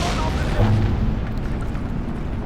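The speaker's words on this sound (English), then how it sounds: "Bringing up their AT guns. And it's firing into our reconnaissance units." Anti-tank guns fire in the WWII strategy game Steel Division 2 as they shell reconnaissance units: a loud, close, low boom near the start that rolls into a long, fading rumble.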